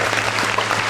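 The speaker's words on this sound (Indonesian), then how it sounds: "Kita kasih tepuk tangan dulu." A crowd claps and applauds steadily throughout, a dense wash of hand claps with no pause.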